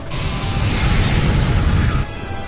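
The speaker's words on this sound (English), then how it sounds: "one of which involves a Harrier jet that can't aim to save its life" A Harrier jet roars loud and close in a Die Hard film action scene, a steady broadband jet-engine rush with a high whine that drops off sharply near the end.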